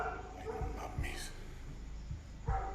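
A dog barks repeatedly at a moderate distance, short yaps spaced through the clip over a steady background hum.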